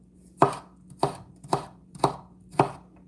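Garlic being minced with a knife on a cutting board for a pork, fennel and lemon ragu: five crisp, evenly spaced chops, close and clear, with no talking.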